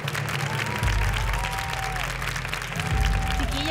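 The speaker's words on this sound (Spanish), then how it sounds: "Con un fuerte aplauso recibimos a Stephanie y Paula." A television studio audience applauds to welcome contestants on a Chilean weight-loss reality show, a steady wash of clapping with a crowd under it and tonal music playing alongside throughout.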